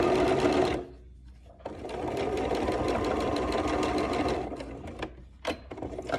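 Sewing machine running steadily to top stitch a cloth face mask seam, with a fast even mechanical whir in two long bursts and brief pauses between them.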